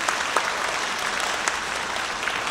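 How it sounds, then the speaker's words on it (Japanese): Warm audience applause at a concert hall performance in Kanazawa, Ishikawa, a dense, steady clapping from a full crowd that carries evenly throughout without a break. "とても温かい拍手をいただきましたので"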